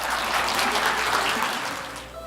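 Steady, full applause from a conference audience at a cloud-computing industry event, sustained at even loudness for a couple of seconds, then tapering off.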